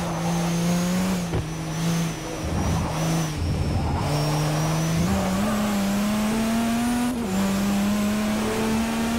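An LMP1 prototype race car's engine in Forza Motorsport 4 holds a loud, close, high-pitched whine that climbs steadily, broken by quick gear-shift dips and a brief tire scrub, on a lap at Lasarth.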